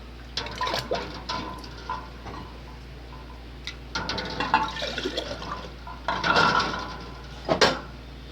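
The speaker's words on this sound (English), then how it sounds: "now I'm just going to get my jars in some water so that they can be sterilizing" Water runs into a pot of glass jars being set up for sterilizing on a kitchen stove, coming in uneven splashing bursts mixed with clinks and clatter of jars and metal, close and fairly loud.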